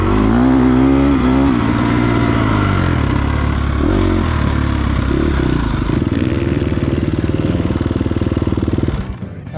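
A dirt bike engine roars loudly and steadily while ridden through a corner on a dirt track, its pitch shifting as the rider brakes and accelerates, ending with a brief drop in level.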